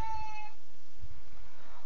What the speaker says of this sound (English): You guys probably hear my cat